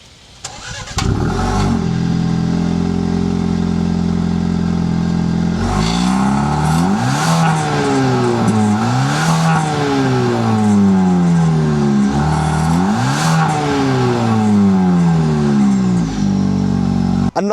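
A 2025 Maserati Grecale with a four-cylinder engine and quad exhaust tips starts up and is revved repeatedly, each loud rising rev falling back to idle, close to the exhaust.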